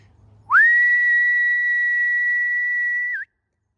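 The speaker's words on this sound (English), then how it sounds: "I find whistling probably is a bit more reliable than shouting" A single loud, steady human whistle calling a Labrador, held at one pitch for nearly three seconds before dipping at the end, heard alone against quiet in the New Forest.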